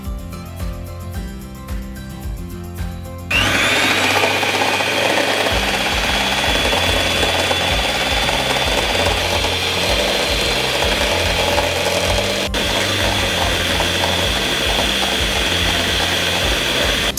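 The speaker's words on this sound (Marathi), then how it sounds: "आता आपण क्रीम आहे ना बीटरनी मस्त बीट करून घ्यायची" An electric hand beater whips cream for a chocolate truffle cake, running as a loud, steady motorised whir for most of the stretch after a brief quieter opening, with no talk.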